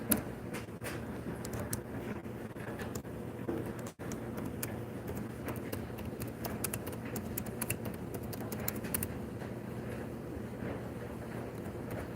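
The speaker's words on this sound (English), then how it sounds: "I'm just typing a message real quick." Rapid, steady clicking of a computer keyboard being typed on, soft and close with a brief pause partway through, no talking.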